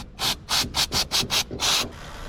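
A rag scrubs a new bicycle chain in about seven brisk, evenly spaced rubbing strokes close to the ear, then a short quiet tail.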